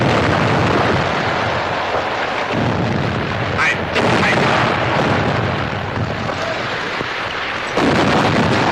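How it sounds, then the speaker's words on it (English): Rapid artillery and gunfire from a naval battle scene in a 1937 spy film, a dense continuous barrage of loud booms and bursts that fills the whole stretch. "Schnellfeuer! Feuer! Range 500. Fire."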